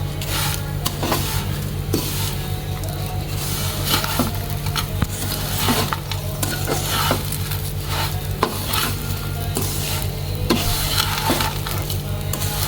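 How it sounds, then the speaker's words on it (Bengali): Vermicelli frying in ghee in a pan is stirred steadily over a low flame, giving a continuous close scraping and rubbing with a soft sizzle and a few sharp clinks of the spoon against the pan, with no talk. "আবার আমি নেড়ে চেড়ে দিব।"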